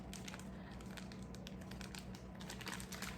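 A Ziploc bag filled with stuffing for strawberries is sealed and squeezed to press out the air, giving close, quiet plastic crinkling and rustling with small crackles through the whole stretch.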